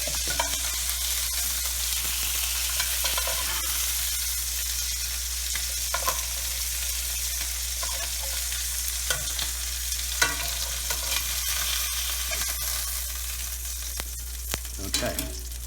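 Chicken pieces and sausage browning in a frying pan give a steady, close sizzle with occasional scraping and stirring clicks, no voices over it.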